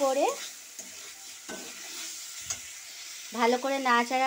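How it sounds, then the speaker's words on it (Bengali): Fried snake gourd being stirred in a pan for a dry poppy-seed curry, soft sizzling with light scraping of a spatula, while a voice speaks briefly at the start and again near the end. "এইভাবে ভালো করে নাড়াচাড়া"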